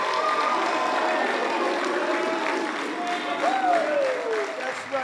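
A crowd claps and cheers steadily throughout at a live step-dance show, a dense wash of applause with shouts and whistles rising over it.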